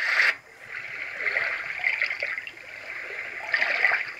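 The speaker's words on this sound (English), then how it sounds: "I would say that's like waves lapping on the beach, much gentler." Gentle waves lapping on a beach from a Roffie N600 white noise machine, a soft continuous wash that swells and recedes, with slightly stronger surges at the start and end.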